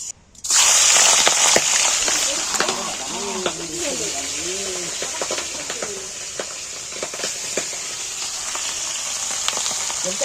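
Fish fry in hot oil in a wok over a high flame, giving a loud, steady sizzling hiss throughout. Pigeons coo in the background partway through.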